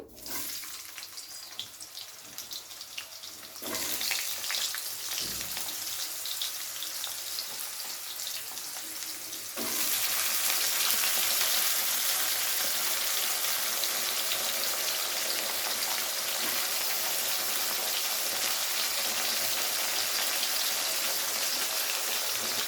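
Potatoes frying in oil for a Bengali mixed-vegetable prawn curry, a steady rain-like sizzle that jumps louder and denser when more goes into the pan, continuing without talk.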